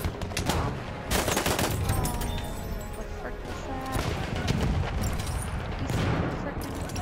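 Battlefield 1 gunfire, dense rapid volleys of shots and bursts crackling continuously with heavy thumps, close and loud, while players talk over the fighting.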